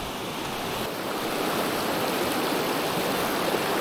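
A river in the Great Smoky Mountains rushes steadily and fairly loudly, with a broad, even wash of flowing water that continues without break and without voices.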